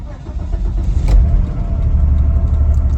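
An old 1990s Volvo with an LPG conversion, misfiring on five cylinders, starts up and runs with a loud, steady low engine rumble. A brief sharp knock comes about a second in.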